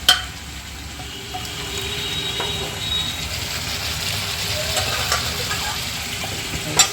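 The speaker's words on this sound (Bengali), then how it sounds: "মাটন কষা এখানে হচ্ছে" Mutton kosha frying in a pan while being stirred, a steady close sizzle with occasional scraping clicks of the spoon, framed by a sharp knock at the start and end.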